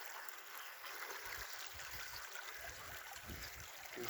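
Water flowing in an outdoor ditch, a faint, steady rushing trickle with soft gurgles, heard from close by with no talk.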